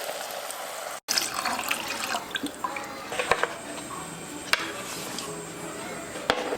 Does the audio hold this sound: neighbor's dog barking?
no